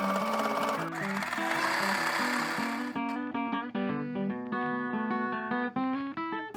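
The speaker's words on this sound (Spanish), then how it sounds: "Voy a coser primero las 2 piezas que son más estrechas para dejarlas en el centro" A sewing machine runs steadily, stitching pieces of old denim jeans together, with tonal music playing alongside the motor's whir.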